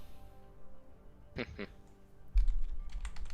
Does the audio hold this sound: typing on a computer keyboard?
yes